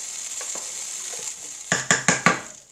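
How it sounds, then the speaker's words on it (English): A boiling pot of chowder is stirred, with a quiet bubbling background followed by four quick, loud scraping knocks of a utensil against the pot, close by. "I'm going to go over and just give this pot a stir."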